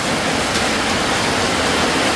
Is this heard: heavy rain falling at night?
yes